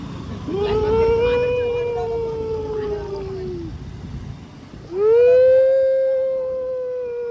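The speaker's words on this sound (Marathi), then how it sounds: "इथं कुत्री वळतात ओरडे." Dogs howling at night along a riverbed: one long drawn-out howl fades, then a second loud, close howl rises and holds, over faint background noise.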